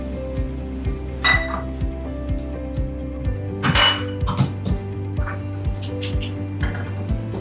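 Bone broth poured into a hot pan for Spanish rice, a steady sizzle under a regular clinking rhythm of a utensil stirring against the pan, with occasional louder splashes.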